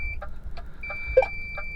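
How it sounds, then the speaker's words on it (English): A steady electronic tone sounds throughout, joined by short repeated beeps, softly under low road and engine noise from a car waiting to pull out. "sorry about the beeping"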